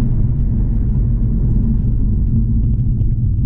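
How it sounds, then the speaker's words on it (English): Synthetic engine note from a 2019 Infiniti Q50S Hybrid, piped through the cabin speakers in sport mode: a steady, loud low drone with constant level and no talk. "So artificial sound pumped in through the speakers when you're in sport."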